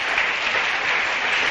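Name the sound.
church congregation applauding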